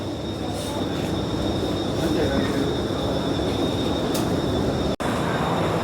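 Steady, loud rumble and rushing hiss inside a moving Singapore metro train, with a continuous mechanical drone and faint high whine, heard up close without clear talk.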